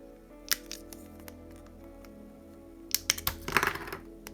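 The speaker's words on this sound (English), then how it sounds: "I've just got to cut this off the parts tree" Cutter snipping a Tamiya BB-01 chassis model part off a plastic parts tree, a few sharp close clicks and snaps, with a quick cluster of small plastic clatters near the end.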